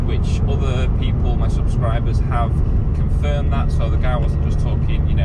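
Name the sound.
Ford Fiesta ST150 with Milltek exhaust running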